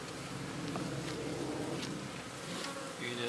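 A dense, steady buzz from many honey bees inside a hive box, continuous and close, with a faint voice briefly underneath near the end.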